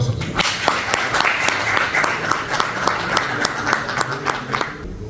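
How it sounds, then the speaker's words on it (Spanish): A conference audience gives a speaker on the legal side of remotely piloted aviation a round of applause, with dense, continuous clapping that fills the room and fades near the end. "Fuertes los aplausos."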